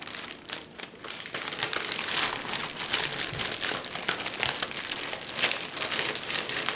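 A big plastic bag full of giveaway items crinkles and rustles up close, with continuous crackling handling noise throughout.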